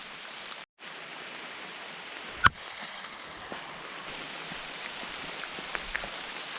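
Steady rain at Governor Thompson State Park, Wisconsin, hisses continuously, with a brief dropout and a single sharp tap partway through; no voices.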